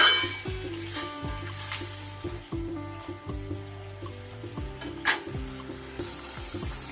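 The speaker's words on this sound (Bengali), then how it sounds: "এবার আমি একটু পরিমাণ মতো জল দিয়ে দেব" Water goes into a frying chilli chicken gravy in a pan, bringing a busy, close sizzle and bubbling with repeated sharp spatters and stirring clatter, loud at first and then settling into a steady hiss.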